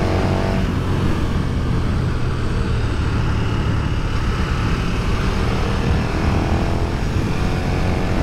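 A 2020 KTM Superduke R motorcycle engine pulls hard under acceleration on a road ride, a loud continuous roar heavily mixed with wind buffeting from the rider's position, steady throughout with no clear gear changes.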